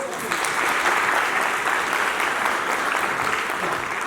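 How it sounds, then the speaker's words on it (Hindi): An audience of staff at an IIT Ropar meeting claps in a thick, continuous round of applause that holds a steady level throughout, with faint voices mixed in. "आप लोग इनके लिए ताली बजा दीजिए।"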